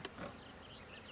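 Honey bees buzz steadily around an opened hive during an inspection of a new colony, a faint, continuous high drone that stays constant and close without any talking.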